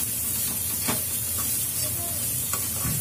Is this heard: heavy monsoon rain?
no